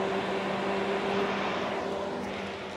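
A public electric car charger powering up produces a steady, loud, broadband whoosh with a faint constant hum, heard close and unbroken with no talking.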